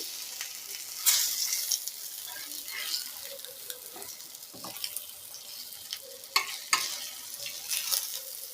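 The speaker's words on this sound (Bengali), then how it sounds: "এইভাবে ভেজে নিলেই সুন্দর একটা হেলদি খাবার হয়ে যাবে।" Rice flour snack pieces sizzling in a frying pan, a quiet steady crackle punctuated by sharper clicks and scrapes as the pieces are flipped one by one, close by with no voice.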